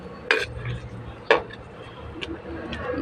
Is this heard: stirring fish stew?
yes